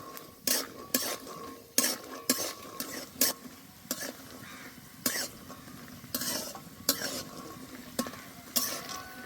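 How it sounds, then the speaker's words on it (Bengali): Peanuts fry in a pan while a spatula scrapes and stirs them in regular, rhythmic strokes, each a loud close scrape over a soft sizzle. "কটা বাদাম নিয়ে নিয়েছি, এবার ভেজে নেব"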